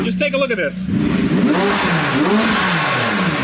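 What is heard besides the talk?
McLaren 675LT engine revving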